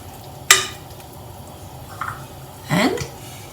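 Beef fry being stirred with onions in a pan: a sharp metallic scrape of the spoon, then a soft squish and a longer wet scraping swirl, faint and close over a quiet background.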